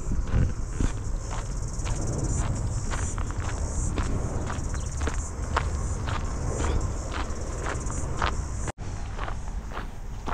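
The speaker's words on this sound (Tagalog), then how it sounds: "Tapos maririnig mo yung mga kuliglig na yan" Steady cricket chirping fills the night air in New Zealand, dense and continuous, with footsteps crunching along underneath throughout.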